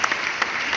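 A short burst of audience applause on a talk show panel, brisk steady clapping with a few sharper claps standing out, lasting under a second.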